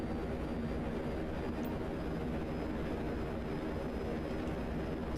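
A VTOL aircraft hovering in GTA Online gives off a steady, fairly quiet engine drone and whooshing rumble that holds level throughout, with no voices over it.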